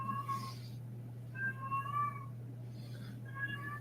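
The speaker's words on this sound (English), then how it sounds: "And my cat is going Dicko mode in the background." A pet cat meows repeatedly in the background, several drawn-out, wavering calls spread across a few seconds, fairly faint over a steady low electrical hum in a room during a card game session.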